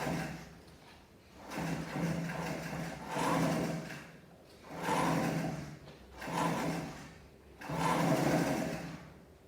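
A sewing machine stitches a blouse collar in repeated runs of a few seconds each, pausing briefly between bursts, close and fairly quiet.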